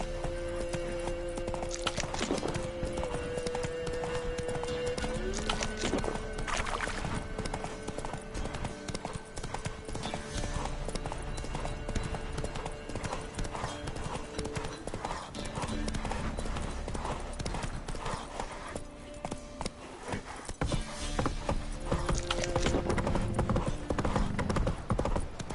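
Roach the horse's hooves clip-clopping in a video game: a continuous galloping patter under dense, loud game sound and music, with a brief whinny, running throughout.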